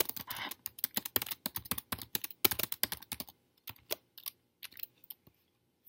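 Rapid typing on a computer keyboard with a few heavier return-key presses, close and crisp, the clatter thinning into scattered single keystrokes toward the end; no voices.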